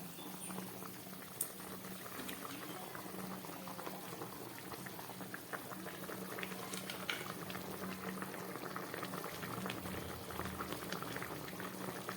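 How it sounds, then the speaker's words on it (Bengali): Fish head curry broth at a rolling boil in a pot, a dense, continuous bubbling and popping that stays steady and close throughout. "ঝোলটা খুব ভালোভাবে ফুটে উঠেছে"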